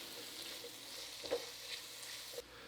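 Minced garlic being stirred into tender, caramelizing onions in a hot pan: a faint, steady sizzle with a few soft scrapes of the spoon, quiet and close, with no talking.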